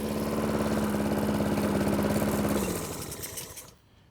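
A small engine runs steadily with a buzzing, rattling hum, then winds down and cuts off, leaving near silence at the end.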